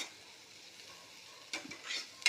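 Onion and tomato masala sautéing in a pan: a faint, steady sizzle, followed by a few brighter scrapes and clinks of a spoon stirring near the end, quiet and without talk.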